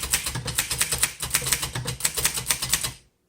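A 1951 Underwood Finger Flite manual typewriter clacks under steady typing, crisp close keystrokes in a quick irregular rhythm with faint bell-like pings, ending abruptly in silence.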